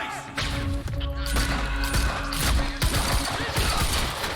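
Gunfire fills a firefight in the video game Quantum Break, dense overlapping shots and impacts crackling continuously at close range over steady background tones.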